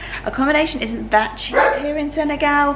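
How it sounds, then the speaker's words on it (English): A dog barks and yips in the background of a guest room in Toubakouta, Senegal, repeated short barks under someone talking. "Excuse the barking dog in the background."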